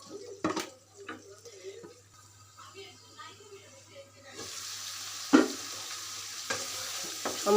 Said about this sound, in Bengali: এগুলো এখন আমি ভালো করে মশলার সাথে কষিয়ে নেব